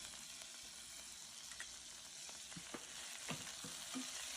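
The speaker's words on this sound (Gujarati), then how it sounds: "થોડા લીલા મરચાં સંતળાઈ જાય ત્યાં સુધી સાંતળીશું." Green chilies and cumin seeds sizzle in hot oil for Gujarati kadhi, a soft, steady frying hiss with small pops and crackles scattered throughout, heard alone and fairly close.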